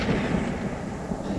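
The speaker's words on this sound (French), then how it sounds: "la tempête jeta sur l'érable une gerbe de foudre" A lightning bolt strikes a maple tree during a storm in a story sound effect, a dull rolling thunder rumble held low and steady for its short length, with no voices.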